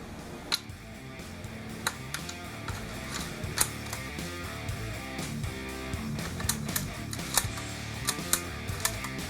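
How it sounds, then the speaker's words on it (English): A Mosin Nagant rifle bolt is assembled by hand, producing a string of close metallic clicks, taps and sliding scrapes at irregular intervals. "let's get this bolt together and get this on the rifle."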